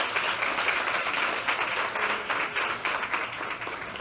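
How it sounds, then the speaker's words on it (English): A workshop audience claps for its speakers in a steady wash of applause. The clapping is dense and even at moderate loudness for the whole stretch, with no clear voices. "can we also just have a massive round of applause for all our speakers so far?"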